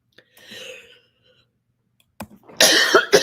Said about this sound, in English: I don't know how to turn off my mic while I cough.